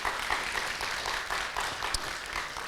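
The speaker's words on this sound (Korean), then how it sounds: "박수" Audience applause after a talk by a poet, a dense continuous patter of many hands clapping at steady moderate level for the whole stretch, with no voices over it.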